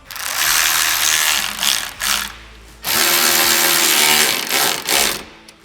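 A tool tightens the lower bolts of a SuperATV flip windshield on a Kawasaki Mule Pro FTX UTV, giving close, loud whirring bursts of about a second each, separated by brief pauses.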